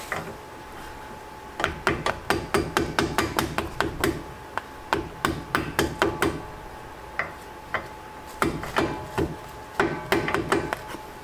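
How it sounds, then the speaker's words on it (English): Repeated sharp hammer taps on cardboard during a brake pad swap, in quick bursts with short pauses between, hard dull knocks on a padded surface, close by. "I'll come in with the hammer"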